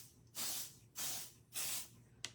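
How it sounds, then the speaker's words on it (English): Spray paint hissing through a stencil onto a jean jacket, three short bursts of roughly half a second each with a faint fourth puff at the end, close and fairly quiet. "I'm going to spray it again."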